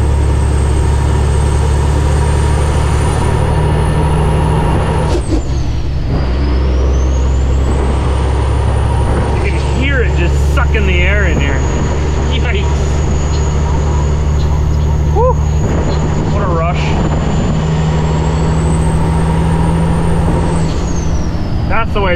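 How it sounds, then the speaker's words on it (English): A semi truck pulling its first load up a small hill gives a loud, steady low diesel rumble, heard from inside the cab, with a high whine rising and falling above it and someone talking over it. "the way a truck is supposed to sound"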